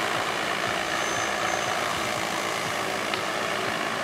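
A DJI Agras T30 agricultural spraying drone in flight gives off a loud, continuous whirring rotor drone, steady and close, with no speech over it.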